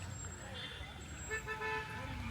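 Car horns toot in busy road traffic near a hill-country lake above Kodaikanal, a few short horn blasts over a steady rumble of passing vehicles while people talk nearby.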